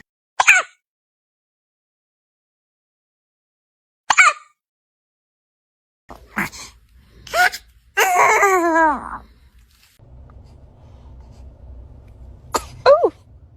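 A baby gives two short, sharp sneezes several seconds apart in a quiet room, followed by small fussing and vocal sounds and a faint background hum.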